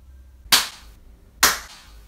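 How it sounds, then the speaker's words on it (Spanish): Two sharp, loud hand claps about a second apart, close and crisp, against quiet background hum. "ya es un poco cansado, ¿no? De estar aplaudiendo aquí"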